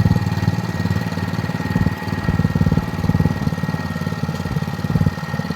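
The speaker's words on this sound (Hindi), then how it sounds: "पेट्रोल इंजन है, बढ़िया काम कर रहा है कुल मिलाकर" A petrol engine drives a sugarcane rotary tiller working soft soil in a field, chugging in a fast steady rhythm with a heavy low thrum, loud and close, with brief dips in load.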